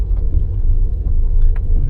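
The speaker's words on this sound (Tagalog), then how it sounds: "Ayan, may truck." Truck engine rumbles on a road, a steady low drone close by, passing with no talk over it.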